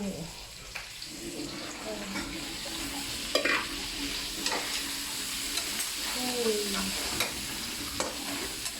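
Frog meat is stir-fried with seasoning in a pan in a wet, saucy style, giving a continuous close sizzle with repeated stirring scrapes and clacks throughout, with faint background voices.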